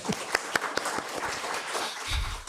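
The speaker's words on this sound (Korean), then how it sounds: "우리 박수로 한번 다 격려해 주시면 좋겠습니다." A church congregation applauding during a Sunday worship service: a few scattered claps at first that build into a softer, continuous ripple of clapping from the room, with a low rumble near the end.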